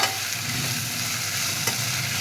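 Half-cooked potatoes and tomatoes being stirred while frying in a pan, a steady close sizzle with scraping stir strokes throughout and no voices.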